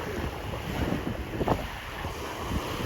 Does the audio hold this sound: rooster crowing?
no